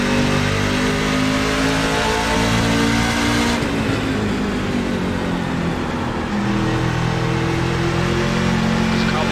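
Truck engine in the iRacing NASCAR Gander Truck Series at Richmond, revving hard with rising and falling tonal sweeps as gears change, loud and continuous and close with no audible talk.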